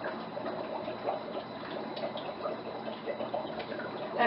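Dry ice bubbling in a container of water mixed with two tablespoons of soap, giving a steady, close gurgling and fizzing that runs continuously with small pops throughout.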